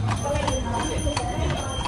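Hooves of a horse pulling a cart clip-clop in a steady, continuous rhythm, loud and close, with people talking over the sound throughout.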